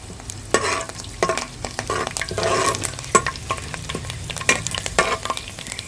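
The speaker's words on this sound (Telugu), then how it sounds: "కొంచెం జీలకర్ర, కొంచెం కరివేపాకు వేసుకొని ఫ్రై చేసుకోవాలి" Cumin seeds and curry leaves fry in about two spoons of oil in a pan for a Godavari-style egg garlic chili dish, giving a steady close crackling sizzle with repeated spatula stirs and scrapes throughout.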